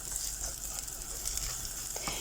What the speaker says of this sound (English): you can hear them already starting to sizzle